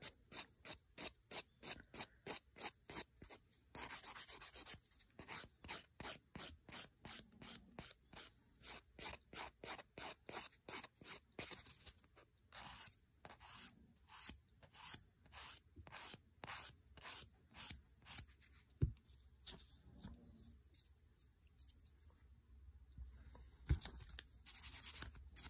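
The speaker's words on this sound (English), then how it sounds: "you can switch down to the emerald file, which is a 180 grit. Continue filing." Building gel on nails is worked with a 180 grit emerald nail file, giving steady, rhythmic rasping strokes at a quick even pace, close and clear, later turning into softer, less regular rubbing.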